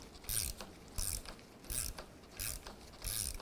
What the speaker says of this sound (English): we're going to use our 14mm gear wrench and put our Allen in the top here